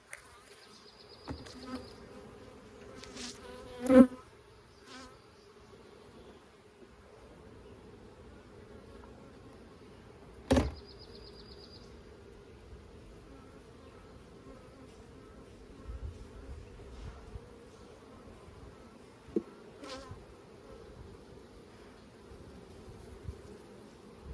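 Honey bees buzz steadily around an open small hive, a soft continuous drone with occasional louder passes of single bees close by.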